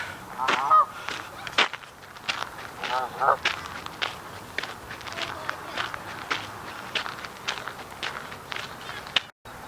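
Geese honk repeatedly at a moderate distance beside a natural spring, scattered calls over soft footsteps crunching along.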